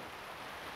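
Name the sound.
heavy rain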